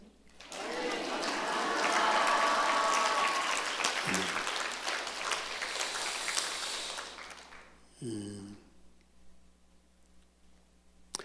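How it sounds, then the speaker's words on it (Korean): A church congregation breaks into loud, sustained applause that swells quickly, holds steady for several seconds, then fades away, with a couple of brief low thumps near the middle and end. "박수로 한번 감사를 표현해 봅시다"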